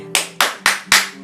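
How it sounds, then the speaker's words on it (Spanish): A preacher claps his hands four times: sharp, close, evenly spaced claps about a quarter second apart, with no talking. "Porque así como aplaudo, dice Jesús"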